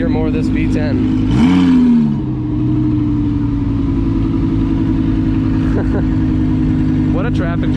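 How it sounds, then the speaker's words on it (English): Stuck in a traffic jam, an Audi R8 V10 gives one quick throttle blip early on, then settles back into a steady, close, low idle rumble while people chat over it. "I could listen to that V10 rumble all day long."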